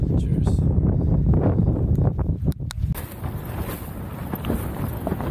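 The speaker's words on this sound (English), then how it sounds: "Starting getting very windy." Strong winter wind blowing outdoors at a campsite in Iceland, a steady broadband roar buffeting the microphone with gusts that swell and ease, with no talking.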